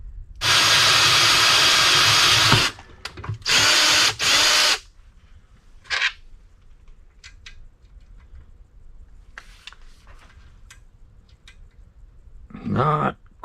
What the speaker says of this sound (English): I didn't want to go up to the next size drill bit because it was a lot bigger